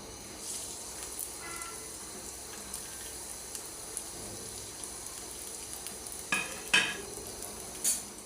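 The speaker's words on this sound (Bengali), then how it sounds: "দিলাম কড়াইতে পরিমাণ মতো তেল এখন দিব পেঁয়াজ" Onion paste fries in oil in a wok as a soft, steady sizzle close by, with a few light clinks and scrapes of stirring near the end and no talk.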